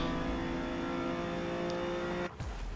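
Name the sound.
Ferrari Dino race car engine in Forza Motorsport video game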